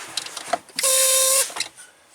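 A sharp hiss of air escaping from the brake pedal valve under a big truck's dashboard bursts out for about half a second amid faint mechanical clicks and rattles, close and loud.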